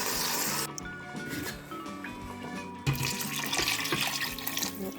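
Water poured into a pot of Cameroonian mashed semi-ripe banana while cooking, heard as a steady splashing pour that pauses briefly and then resumes louder, fairly close.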